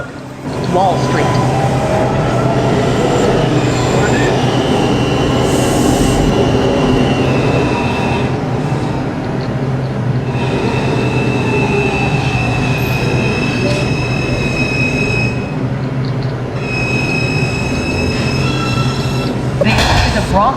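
NYC subway R142 car on the 5 train running on the IRT mainline, a loud continuous rumble with long high wheel squeals rising and fading several times as it rounds curves, close and sustained throughout.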